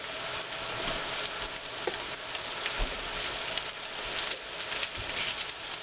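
A stir fry from a BBQ catering kitchen sizzles steadily in the pan, a constant dense crackle broken by soft scrapes and knocks as it is stirred.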